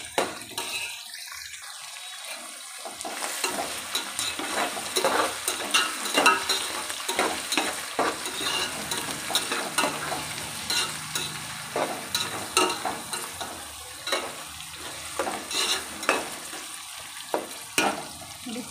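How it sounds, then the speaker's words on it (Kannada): Vegetables including green chillies and peas sizzle in a pan for egg fried rice, a continuous close fry punctuated by repeated scraping stirs of a spatula, with no one talking. "ಫ್ರೈ ಆಗ್ತಿದೆಯಲ್ವಾ."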